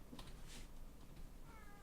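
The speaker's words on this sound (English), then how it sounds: "Meow." A cat meows once, quite faint and short, above a low steady background hum with no talking.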